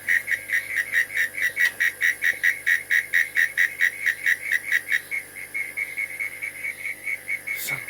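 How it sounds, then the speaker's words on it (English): Garden frogs calling: a rapid, regular series of bright, piping whistle-like notes repeating steadily, nearby and fairly loud, then continuing more softly toward the end, with faint background hum and no talking. "I'm out here trying to figure out where the frogs are."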